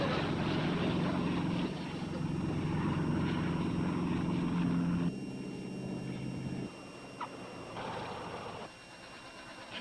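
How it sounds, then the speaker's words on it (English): A small propeller plane drones steadily as it descends to land, a loud continuous engine hum that shifts in pitch and fades slightly toward the end, with no talk. "Look, the plane is coming down."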